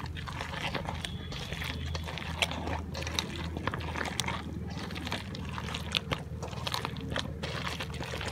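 Ripe palm fruit pulp being mashed and squeezed by hand with a little water, a close run of wet squelching and crunchy squishes at an irregular rhythm, fairly quiet with no talking.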